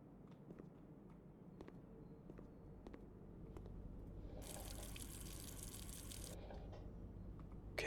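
Water rushing in to fill a kitchen room in the puzzle game Blue Prince, a faint steady trickling wash that swells into a brighter gushing spray for a couple of seconds before easing.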